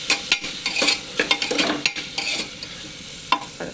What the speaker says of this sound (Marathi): आता हे सर्व असं मिक्स करून घ्यायचं आहे आपल्या भाज्याने.